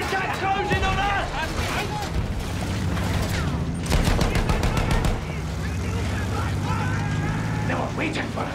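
Machine gun and field gun fire in the World War I shooter game Battlefield 1: rapid bursts and heavier booms over rumbling battle ambience, with voices shouting through the chaos.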